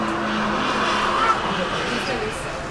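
A 755 HP 2019 Chevrolet Corvette ZR1 and a 710 HP McLaren 720S roll race, their engines a faint, distant roar under excited spectator talk.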